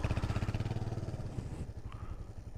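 A motorcycle engine runs close by with a steady pulsing throb as the rider feathers the clutch and modulates the throttle during a riding lesson, the revs easing off partway through.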